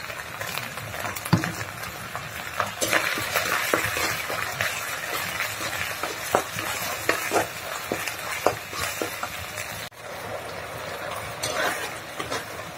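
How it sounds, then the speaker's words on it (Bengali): Spice paste with turmeric and chili powder is stirred and sautéed in a pan, a steady sizzle broken by repeated scraping strokes and soft clacks of the spoon, close and alone without talk. "আমি এখন মশলাটা সুন্দর করে কষাই নেব"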